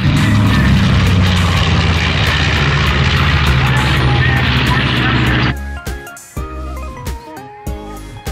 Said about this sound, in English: A B-25 bomber?